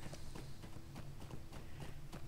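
Hooves of a galloping horse in a video game clip-clop in a quick, regular rhythm of sharp thuds over a soft background hum, fairly faint and without speech.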